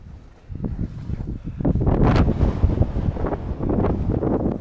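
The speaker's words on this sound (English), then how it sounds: "Chilly, a lot of windy." Strong gusts of wind in Glenwood Park, Colorado buffet the microphone in loud, rumbling bursts that swell and stay heavy throughout.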